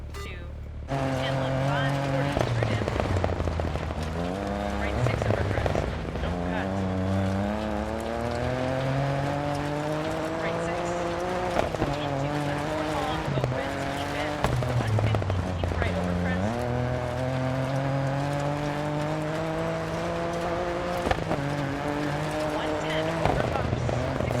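Rally cars in the Dirt 4 racing video game rev their engines loudly and continuously, the pitch climbing and dropping through repeated gear shifts and accelerations, with occasional tire scrabble and skid noises throughout.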